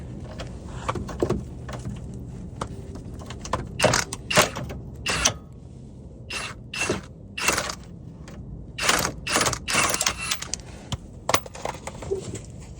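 Ratchet and swivel socket working a lower control arm bolt on a 2013 Hyundai Equus, close uneven clicking and metallic clatter in short bursts, with tool handling and shifting between them.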